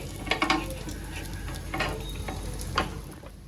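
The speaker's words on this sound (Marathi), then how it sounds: "आता ह्याला मी पलटी मारून घेते एका साईडने शेकते" Masala French toast made from potato and bread fries in a pan as it is flipped, a soft close sizzle with a few light scrapes and clatters from a utensil against the pan.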